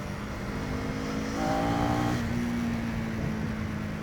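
Motorbike on a road ride toward Dapoli, engine humming steadily close by, then swelling into a brief louder roar as the throttle opens before settling back to a steady drone.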